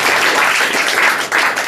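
A classroom of students breaks into loud, dense applause, many hands clapping together in a close, continuous burst.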